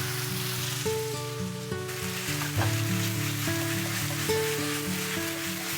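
Knife-peeled noodles tossed into a hot pan with chili oil, a continuous hissing sizzle like rain, close and moderately loud, with a brief surge midway and soft background music, no talk.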